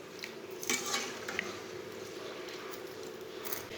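Spoon stirs vermicelli and milk in a metal pot, giving a few faint clinks and soft scraping swirls, quiet and close with no talk.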